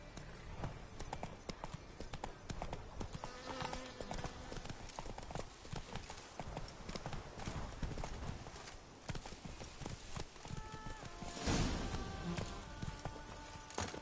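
Roach the horse's hooves clip-clop steadily at a walking pace in The Witcher 3, close and continuous over ambient game sounds and occasional tones, with a louder burst near the end.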